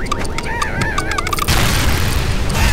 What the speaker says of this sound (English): Diabolic detonation!